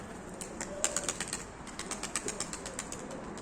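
Soft pigeon coos and fluttering sounds over a steady background hiss, with a few quick mechanical-sounding ticks.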